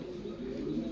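Domestic pigeons, several pairs of fancy coloured birds kept in a loft, cooing softly with a low, continuous murmur at moderate distance.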